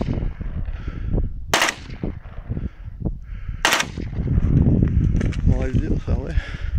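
An AKS-74u rifle fires short automatic bursts outdoors, two sharp loud volleys standing out among background noise and nearby voices.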